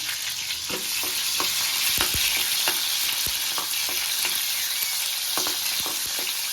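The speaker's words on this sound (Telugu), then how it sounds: "ఇదిగోండి, టమాటాలు కూడా వేయించేసుకోవాలి" Three small tomatoes frying in a pan for raw mango chutney, a continuous loud sizzle with occasional scraping stirs and utensil taps against the pan, close up and without voices.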